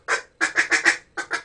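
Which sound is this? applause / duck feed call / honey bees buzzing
duck feed call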